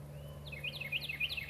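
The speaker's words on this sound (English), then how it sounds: "Can you hear the birds?" Birds chirp outside in a quick series of sharp, bright tweets that start partway in and repeat rapidly over a steady low hum, moderately close and clear.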